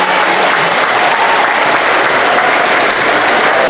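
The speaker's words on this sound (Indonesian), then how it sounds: "Tepuk tangan untuk beliau." Loud, sustained applause from an audience at a university public lecture event at UIN Pekalongan, a dense steady clatter of many hands filling the whole stretch with no voices over it.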